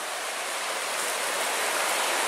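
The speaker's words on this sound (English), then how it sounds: "Well, we just made it down to our first river. I think this river leads to Devil's Kettle Fall." A large river near Devil's Kettle Falls rushes in a continuous, even broadband wash, moderately soft, with no voices over it.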